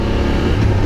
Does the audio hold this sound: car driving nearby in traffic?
yes